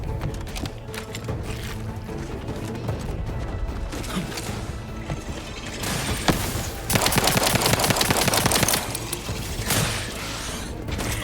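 Rapid bursts of gunfire in The Outer Worlds 2, dense and loud, with a heavier stretch of sustained fire in the middle and mechanical clatter between the volleys.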